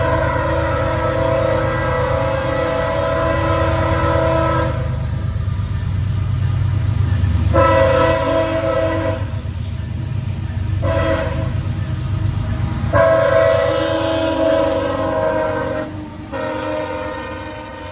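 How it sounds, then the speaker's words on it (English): A long train rolls past a crossing with a steady, loud rumble of cars, its horn blaring in several long blasts broken by short gaps, close and dominant throughout. "I had to stop and wait on the train."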